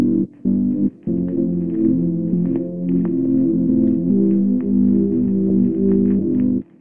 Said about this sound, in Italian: ho preso un classico Jupiter pad da Omnisphere e ho risuonato gli accordi